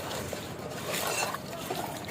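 Fish pieces being rinsed by hand with salt and water, a continuous close splashing and sloshing wash of water for about two seconds with no talking.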